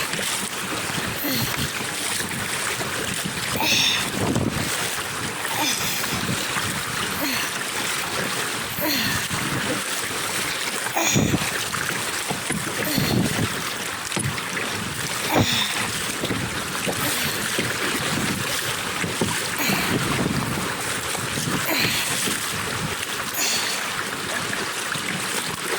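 Waves on Lake Superior slapping and washing against a kayak, a steady, loud, broadband wash of water and wind with splashes throughout, close by.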